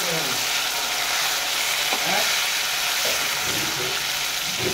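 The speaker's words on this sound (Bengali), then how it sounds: "এখন মাছটা একটু ভাজা হয়ে গেছে" Pieces of fish fry in hot oil in a pan for a Bengali mustard fish dish, with a steady, dense sizzle throughout and faint clinks of handling underneath.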